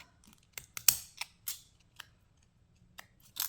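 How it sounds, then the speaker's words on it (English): Wavy-edged craft scissors cut scrap paper for embellishments, giving a handful of separate crisp snips in an irregular rhythm, close and alone with quiet pauses between them. "you could always just take your scissors and make little waves yourself"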